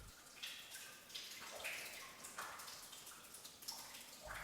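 Water trickles and drips faintly through an underground river cave, with scattered soft splashes and watery plinks over a quiet, hollow background.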